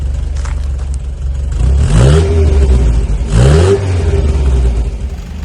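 An MG car engine and exhaust, before a new ANSA rear box is fitted, idles with a low rumble and is revved twice in clear rising surges, loud and close, with no talk.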